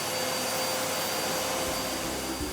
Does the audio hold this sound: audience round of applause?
no